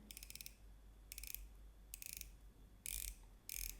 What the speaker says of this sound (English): Let's also hear a little bit the bezel.